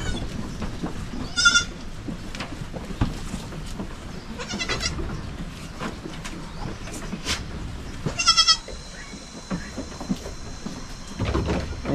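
Goats, including small kids, bleat in a pen on a goat farm with a few short, separate wavering calls at intervals over rustling and knocking barnyard background noise.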